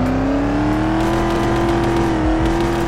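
A V8 sports car engine in a Roblox game starts and idles as one loud, steady rumble that rises slightly in pitch and holds alone.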